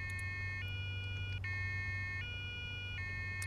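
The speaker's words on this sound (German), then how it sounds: "Sirene aus." A police siren in the video game Arma 3, a steady electronic wail that switches tone in repeating cycles about every 0.8 seconds, loud and continuous over a low engine rumble, with no talking.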